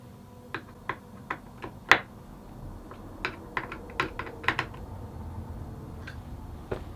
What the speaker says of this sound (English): I'll just finish snugging these down by hand